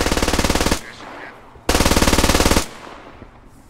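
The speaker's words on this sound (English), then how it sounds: "They're shooting up the hill." Gunfire in the Squad Ops video game: two loud bursts of rapid automatic fire, each lasting under a second, with a short pause of fading echo between them.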